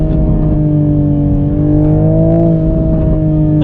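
A modified 2021 Toyota Supra's engine drones steadily under load, with the exhaust note rising and falling slightly as the throttle is pressed and eased off, heard loud and close from inside the car with no talk.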